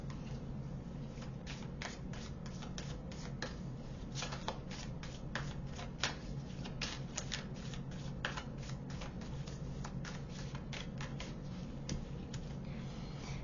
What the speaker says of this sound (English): Let me pull you a few more cards.